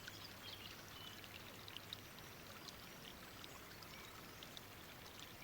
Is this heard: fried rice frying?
no